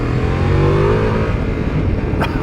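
Ducati Multistrada V4 motorcycle accelerates hard on the road, its engine revving loud and close with rising pitch and heavy wind rush.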